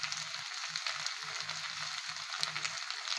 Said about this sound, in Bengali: কালীবাউস মাছের ফ্রাই